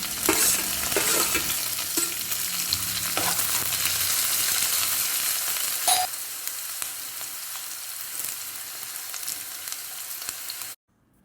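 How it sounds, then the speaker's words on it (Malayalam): Onions and green chillies frying with ivy gourd in a hot pan, a steady close sizzle with occasional stirring scrapes for about eleven seconds before cutting off abruptly. "തൊട്ട് മൂത്തതിന് ശേഷം സവോളയും പച്ചമുളകും ഇട്ട് കൊടുക്കാം"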